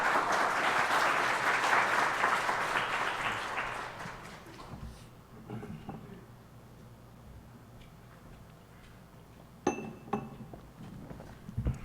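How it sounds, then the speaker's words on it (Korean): A church congregation bursts into loud, sustained applause to welcome a missionary to the pulpit, clapping strongly for about four seconds before fading, followed by quiet room noise and a few light clinks and taps. "우리 그 마음을 담아서 우리 박수로 모시도록 하겠습니다."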